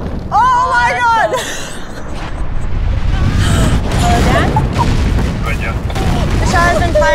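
Mine blast explosion, a heavy, sustained low rumble and roar that fills the whole stretch, while voices shout and exclaim over it.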